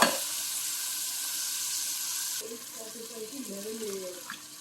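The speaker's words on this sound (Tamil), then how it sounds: "தக்காளி போட்டு நல்லா வதக்கலாம்" Chopped tomatoes sauté in a pan for a brinjal and dal gravy, giving a steady close sizzle that softens midway as a voice talks over it.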